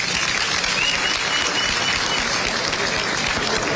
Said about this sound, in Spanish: El aplauso para Félix.